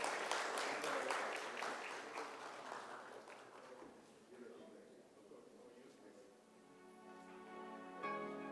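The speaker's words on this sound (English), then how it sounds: "Kindly welcome our Ambassador with a huge round of applause." Clapping from an audience at an investment road show at the India Pavilion, Expo 2020 Dubai, greeting the UAE Ambassador; it starts fairly strong, then thins and fades while a faint tonal sound rises underneath.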